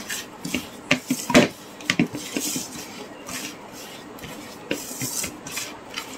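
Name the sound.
hand mixing fishing bait with oil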